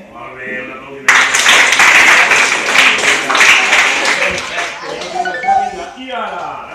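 Audience clapping at a workshop bursts in abruptly after a second of quieter sound, staying dense and steady, then thinning out near the end as voices come through.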